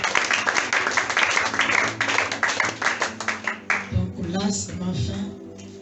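Congregation clapping and applauding during a church worship service, dense sustained applause for about four seconds that thins out, with voices rising over the tail end.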